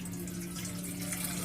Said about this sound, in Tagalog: maglagay ng isang basong tubig